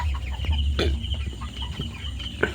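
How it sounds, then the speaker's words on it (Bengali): Chickens on a farm give soft, scattered clucks over a low, steady background hum. The calls are close by and come at an irregular pace, with no talking. "দেখা পাচ্ছ কত সুন্দর মুরগিগুলো হাঁটছে থমথম করে"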